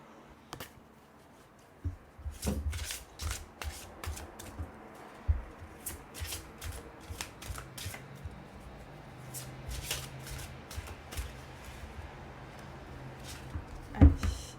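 Tarot cards being shuffled by hand for a reading, a close run of crisp riffles and soft slaps with irregular flicks and taps, fairly quiet and without talk.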